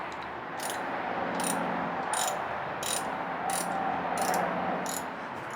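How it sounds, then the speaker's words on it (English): A ratchet with a socket turns a bolt during a crane repair, giving seven evenly spaced clicking strokes over a steady background hum, close by, with no talk. "Helps when you take a ratchet with you."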